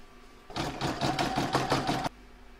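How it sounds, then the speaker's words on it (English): An embroidery sewing machine stitches a patchwork star quilt block, a rapid, even mechanical whir that starts abruptly, runs steadily for about a second and a half, then stops. "I'm now going to pop that in my machine and stitch round number 17."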